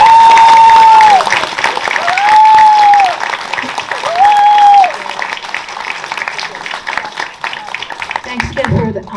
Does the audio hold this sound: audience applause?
yes